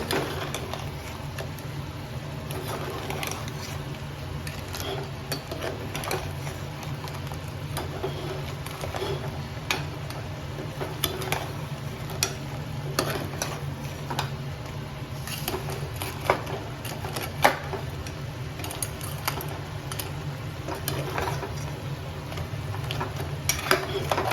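Crab being stirred with coconut in a pan, a steady low sizzle with frequent small scraping and clicking strokes of a utensil, fairly faint and continuous.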